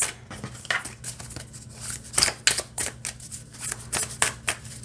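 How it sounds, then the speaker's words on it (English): Tarot cards are shuffled by hand in a steady run of crisp riffles and flicks, close up and with no talk over them. "So they shuffle just fine either way that you want to do it."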